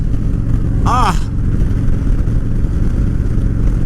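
A motorcycle engine running at speed on the road, a loud, steady rumble mixed with dense wind noise and a brief higher tone partway through.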